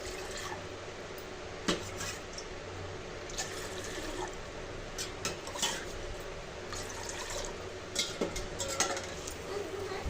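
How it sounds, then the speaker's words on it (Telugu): Water boils in a pot for homemade jelly, a quiet, steady bubbling hiss broken by a few sharp clinks of the pot or utensils. "వాటర్ అయితే బాయిల్ అవుతా ఉన్నాయి"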